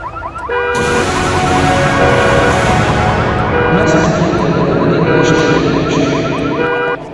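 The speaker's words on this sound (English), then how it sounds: "What with the alarm?" A car alarm blares continuously near a parked car, its loud repeating electronic siren pattern cycling through rising and falling tones for the whole stretch.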